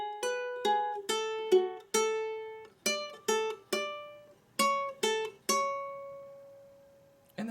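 Ukulele picking a riff as four groups of triplets, bright plucked notes ringing alone in a steady rhythm with short pauses between phrases, played close and clear.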